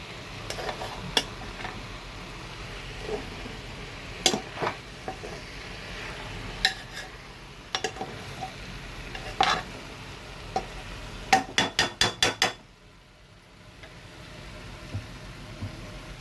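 Cabbage curry being stirred and fried in a pan: a soft, continuous sizzle with irregular scrapes and taps of a spoon against metal, ending in a quick run of clinks and then brief quiet.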